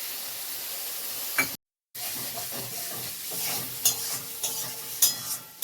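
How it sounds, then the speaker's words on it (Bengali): Yogurt and spices being stirred into an okra curry in a pan, a steady hissing sizzle with intermittent scraping strokes of a spoon, close and continuous, without talk. "এবার আমি ভালো করে মিশিয়ে নিচ্ছি দই মশলা সব একসাথে।"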